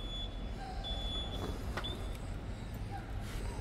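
A railway crossing warning sounds near the tracks around Songjeong and Cheongsapo, a faint high, thin beeping tone, steady at first and then broken, over a low rumble of traffic.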